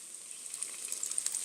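About a tablespoon of oil heating in a pan on medium-high, giving a thin, steady sizzle with faint crackles, fairly quiet and without talk.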